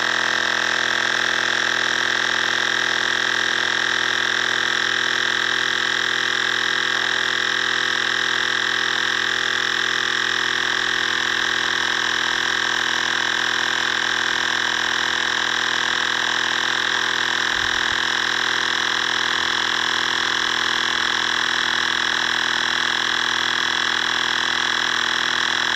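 A Cycplus A8 cordless electric air pump runs steadily and loudly for the whole stretch, a constant whining motor drone with a buzzing hum underneath and no talk.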